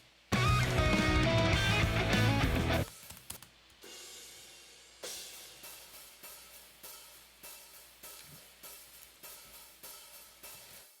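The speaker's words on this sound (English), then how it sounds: "And this track has got a cymbals only." Drum cymbals heard through an overhead microphone isolated to cymbals only, a loud washy crash at the start fading out, then a steady run of ride or hi-hat strikes ringing bright and close.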